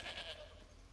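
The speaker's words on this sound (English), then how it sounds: "There's a goat still alive?" A goat bleats in the fantasy video game Elder Scrolls Online, a single brief nasal cry heard over a steady game ambience.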